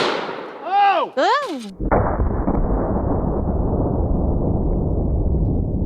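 A 10 gauge shotgun firing 3.5-inch double-aught buckshot gives one loud, close blast, followed by a long rumbling roar. Exclaiming voices come just before the shot.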